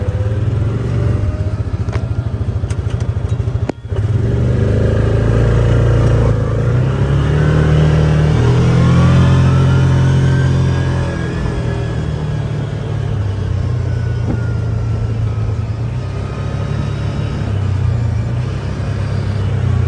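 A John Deere 3025E compact tractor engine runs steadily close by, a low continuous rumble with some shifts in pitch as it works across a wildlife food plot.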